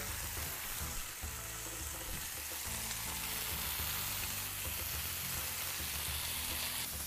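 Garlic mushrooms sizzle steadily in a frying pan being warmed through, a continuous close, loud crackling fry with no voices over it.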